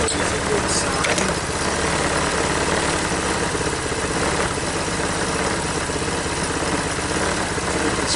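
A Tao Tao Bull 150 ATV, abandoned and recently revived, idles at close range with a loud, steady, buzzy single-cylinder drone that barely changes pitch.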